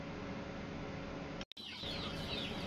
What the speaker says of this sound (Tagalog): meron din po tayong mga manok